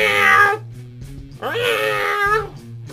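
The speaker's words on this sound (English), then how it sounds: "I hear a cat in the background." A cat gives two drawn-out, wavering meows close and clear, separated by a short pause, over a low steady background hum.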